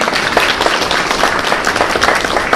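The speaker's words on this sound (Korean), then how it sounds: "우리 박수로 한번 축복해 주세요." A church congregation claps together in a continuous, lively round of applause, close and loud, with steady dense patter throughout.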